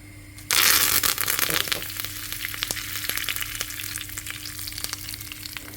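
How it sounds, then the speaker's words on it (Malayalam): Mustard seeds, dried chillies and curry leaves dropped into hot coconut oil in a pan, with a sudden loud burst of sizzling that settles into steady frying and crackling pops, close by. "ഒരു പാൻ എടുത്തിട്ട് അതിലേക്ക് ആവശ്യത്തിന് വെളിച്ചെണ്ണ ഒഴിച്ചു കൊടുത്തിട്ട് കടുക് പൊട്ടിക്കുക"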